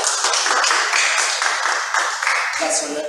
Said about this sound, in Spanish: Muy bien, un fuerte aplauso.